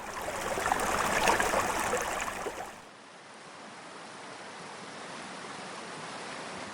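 Flowing water of the Salmon River in New York rushes in a steady broadband wash, louder and fuller for the first few seconds before settling into a softer, even hiss.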